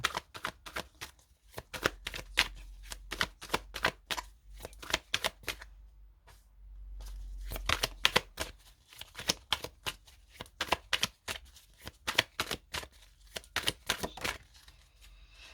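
Osho Zen tarot and oracle cards are shuffled by hand in quick riffling bursts of sharp flicking snaps, close and crisp, with a couple of short pauses between runs and no speech.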